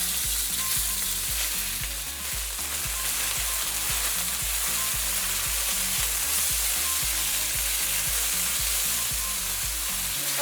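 Chicken frying in oil in a wok gives a loud, steady sizzle with continuous crackling and no pauses, alone without any talk.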